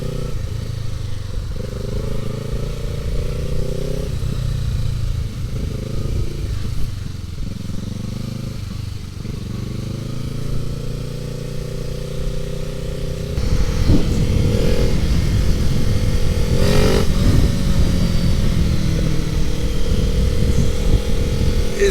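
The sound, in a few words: Kawasaki Ninja 650 motorcycle with loud aftermarket exhaust riding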